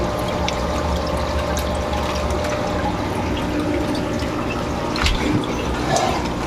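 Water from a submersible pump overflows an aquarium overhead filter with a clogged, dirty filter, making a steady, close splashing and pouring rush with small drips and gurgles, with no voices.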